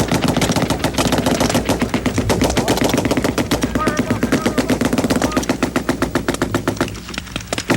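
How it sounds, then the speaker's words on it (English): Army Rangers spring a desert ambush on a convoy, firing machine guns in loud, dense, continuous bursts of rapid overlapping shots that go on without a break from start to finish. "As the convoy fills the kill zone, the Rangers open fire."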